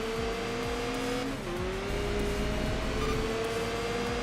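Racing car in the video game Enthusia Professional Racing braking late, a steady loud engine drone with a brief dip and downshift as it slows, then the engine tone climbing again, with faint tire noise underneath.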